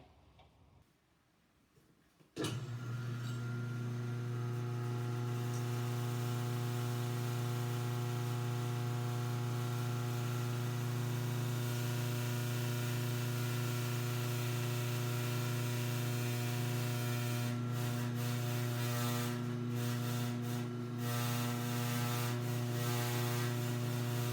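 A maple cream making machine, with its pipe fitted, starts after a few quiet seconds and then runs with a loud, steady motor hum and faint ticking throughout.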